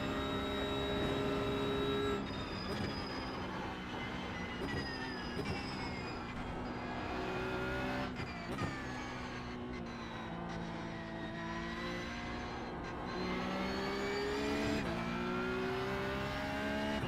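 A NASCAR-style cup race car engine revs hard with a sweeping, rising and falling pitch as it passes, loud and steady throughout, with no talk.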